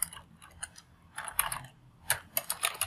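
A computer keyboard is typed on in short, irregular bursts of close, crisp key clicks with brief pauses between them, and no voices.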